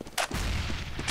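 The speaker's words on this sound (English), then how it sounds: "Throwing a grenade." A grenade bursts in Counter-Strike, a sharp loud blast followed by a short booming rumble that fades within a second, heard alone without talk.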